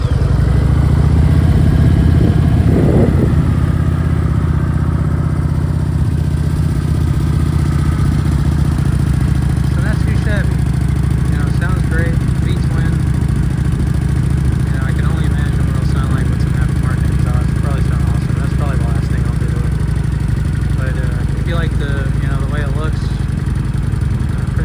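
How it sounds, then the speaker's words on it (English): Kawasaki Vulcan 900 Custom motorcycle idling on its stock muffler, a steady low exhaust rumble running throughout with some faint clatter and occasional background voices. "a sound of what the stock muffler sounds like. Let's see. And it's just stock muffler."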